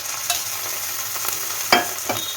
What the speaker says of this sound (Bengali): দিয়ে 2 মিনিট একটু লো ফ্লেমে ভাজাভাজি বা নাড়ানাড়ি করে নেব